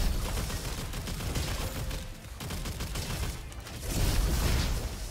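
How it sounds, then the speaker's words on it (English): The fox gun starter pistol fires in the video game Roboquest, a steady, busy stream of shots and mechanical clatter that runs throughout and swells toward the end, with no talking. "Actually, the fox gun is pretty decent, guys"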